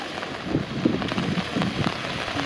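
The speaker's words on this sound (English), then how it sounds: "It is a rainy day in Pokhara," Steady rain falls on the streets of Pokhara, Nepal, a continuous broadband hiss with scattered droplet patter and a faint low rumble, no voices.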